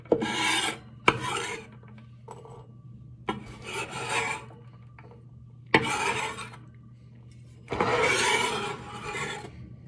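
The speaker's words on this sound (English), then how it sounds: "I wouldn't recommend using your knife to scrape up like this unless you sharpen it relatively frequently" A knife blade scrapes minced garlic across a cutting board in several separate raspy strokes, each a second or so long with short pauses between, close up and fairly quiet with no talking.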